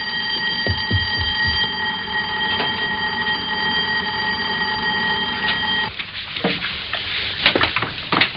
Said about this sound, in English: It's just Dad who set Heather's burglar alarm off.